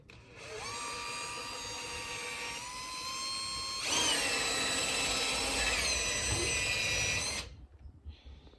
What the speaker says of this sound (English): This comes with the valve grinder set, and it's just for cleaning out valve guides.